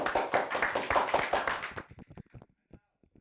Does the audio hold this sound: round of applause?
yes